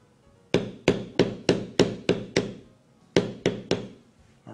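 A tool is hammered sharply on leather to pound down an embossed impression. Eleven crisp, evenly spaced strikes ring out close and loud, with a short pause partway through the series.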